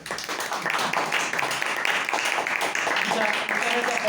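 An audience applauds at a book presentation, dense steady clapping from many hands filling the room, with voices mixed in.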